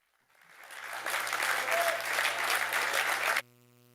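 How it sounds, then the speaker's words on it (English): An audience at a Rotary district public image seminar breaks into applause, rising from silence into a moderate, steady round of clapping for about three seconds before it cuts off abruptly. "Can I ask for another round of applause, please"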